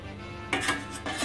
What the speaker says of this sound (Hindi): प्लेट रख देंगे, इस पर ढक्कन ढक देंगे